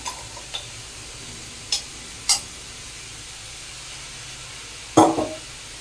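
Boiled chickpeas stirred into half-cooked cabbage in a pan, heard as a few sparse, quiet spoon scrapes and clicks spread across a mostly hushed background.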